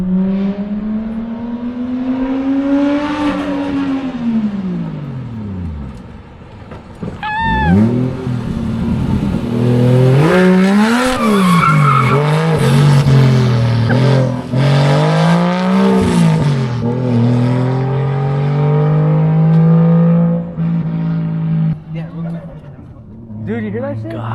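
A turbocharged drift car engine revs and rises and falls in pitch, with swelling and fading passes and tire noise, heard under loud, excited talk nearby.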